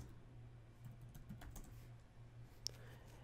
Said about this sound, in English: we're going to type travel pillow